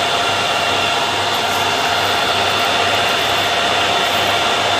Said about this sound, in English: So there are altogether 4 cooling fans on this machine.